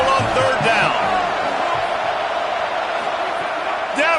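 The home crowd roars at a UCLA versus Michigan college football game as the defense faces third down, a dense, sustained wall of stadium noise under a commentator's voice.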